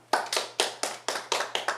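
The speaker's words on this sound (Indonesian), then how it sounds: "Tepuk tangan dong." An audience at a sermon claps in a short, rhythmic run of about eight distinct, fairly faint hand claps, evenly spaced and heard alone.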